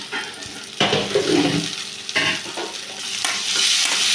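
Tomatoes dropped into frying onions in a pan for a Tamil-style brinjal masala gravy, then stirred: a loud sizzle bursts up as they land, followed by scraping stirs and steady crackling frying, close and without talk.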